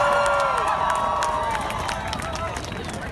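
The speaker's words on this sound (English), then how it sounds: "Please give yourselves a round of applause," Outdoor crowd at a youth climate strike in Philadelphia, applauding and cheering in the cold, with whoops and shouts over continuous clapping that tapers slightly near the end.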